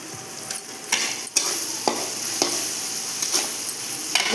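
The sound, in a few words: cooking marinated chicken with spices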